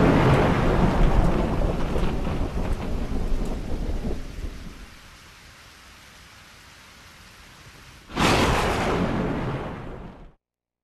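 Thunderstorm in the video game Eternal Sonata: steady loud rain roars for about four seconds and then drops to a quiet hiss. A sharp, loud thunder crash follows and rumbles for about two seconds before cutting off.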